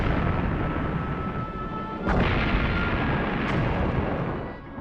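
Heavy naval gunfire from an Iowa-class battleship bombarding a shoreline: a sustained deep roar with two sharp booming blasts, loud and close, without any voices.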